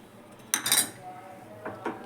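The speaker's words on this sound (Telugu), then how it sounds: "పాలు మొత్తం చక్కగా కలిసేలా కలుపుకోవాలి." A spoon clanks and scrapes against a metal pot as custard is stirred into boiling milk for a bread dessert, with one loud clatter followed by softer knocks.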